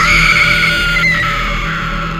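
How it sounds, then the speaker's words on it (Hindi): A woman's scream used as a sound effect in a Hindi spoken horror story: one long, high, sustained shriek that fades slightly toward the end, over a steady low background drone, with no talking. "तभी अपने पीछे उसे नैना की एक चीख सुनाई देती है"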